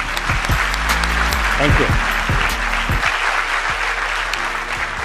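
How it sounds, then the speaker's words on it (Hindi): Loud applause from a seated audience at a direct selling and network marketing talk, dense and sustained for several seconds, with a voice speaking over it briefly. "स्वागत करता हूं जोरदार तालियों से"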